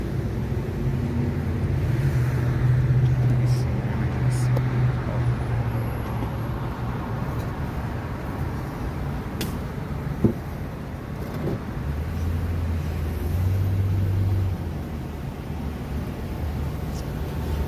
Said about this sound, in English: From what it looks like, it's not a lot of traffic so far